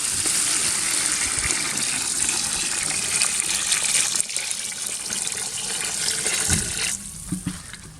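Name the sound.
water being poured into the cooking pot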